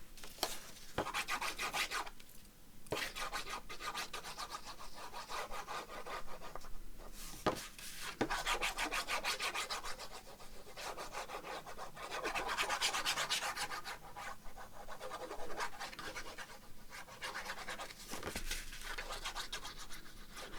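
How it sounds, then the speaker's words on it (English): Glue is rubbed onto paper for a handmade nature-journal lapbook page, giving close, continuous scraping and rasping strokes with short pauses between passes and no talking. "I'm literally going to put glue on this and stick it down."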